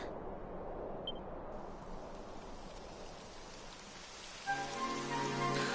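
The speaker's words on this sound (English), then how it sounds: "It would have to go and start raining, wouldn't it?" Rain falls in the video game Dragon Quest 11, a steady hiss of rain on surfaces, with game music swelling in near the end.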